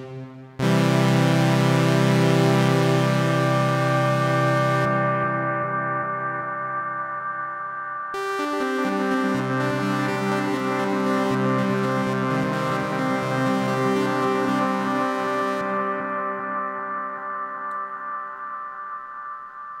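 A Lunar Lander synthesizer module with its regen feedback turned up into self-oscillation, giving sustained, harmonically rich droning tones that shift pitch partway through, loud and steady with no talking.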